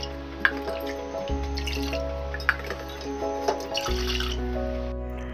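Water runs and splashes into a small pressure cooker while varagu rice pongal is being made, a steady close pour with a few sharp drips and clinks, no talk over it.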